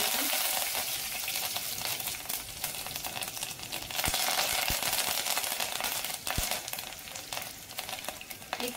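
Curry leaves crackle and sizzle in hot oil with cumin and popping mustard seeds for a dal tempering, a dense, continuous frying hiss with scattered sharp pops and no talking.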